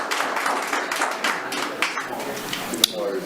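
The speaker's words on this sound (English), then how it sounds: "not have the clapping in the public business meeting" Audience applause at a city council public business meeting in Laramie, Wyoming: scattered, moderately distant hand clapping in a brief burst, with murmuring voices underneath and one sharper tap near the end.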